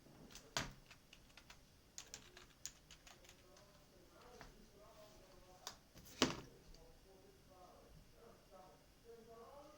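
Keys tapped on a computer keyboard while entering a password, faint close clicks in a sparse irregular run with a couple of louder strikes.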